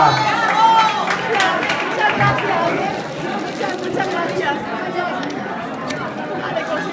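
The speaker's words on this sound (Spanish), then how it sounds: "Un aplauso para Paloma" An indoor audience at a municipal community centre radio event applauds together, a dense wash of clapping mixed with crowd chatter and voices, steady and fairly loud throughout.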